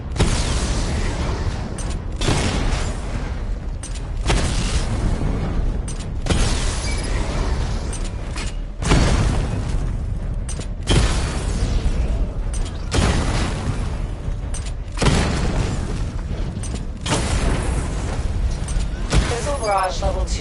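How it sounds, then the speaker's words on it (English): Missile barrage explosions in a Batman video game sound as a relentless series of heavy booming blasts with mechanical clanks, repeating in dense bursts throughout. "Charge the missile barrage to level 2 to destroy up to 4 targets at once"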